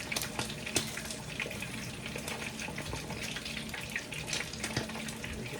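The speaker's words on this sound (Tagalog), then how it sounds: "Lalagyan ko siya ng tubig." Water pours and splashes steadily into a pot, a continuous gushing stream with a few small clunks, no voices.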